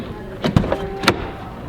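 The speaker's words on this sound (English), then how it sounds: "So when you press the unlock button on the key, the mirrors fold out." Power-folding side mirrors on a 2018 Mercedes-AMG GT R unfold after the key unlock, giving a few soft close motor whirs and small clicks over roughly a second, ending in a light thunk.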